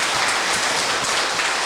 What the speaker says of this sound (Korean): 네, 다시 한번 감사의 박수